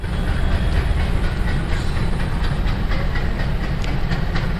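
An Alco diesel locomotive hauls the Kulik Express out of Bardhaman Junction, giving a loud, continuous rumbling engine drone with rail noise throughout and no talking.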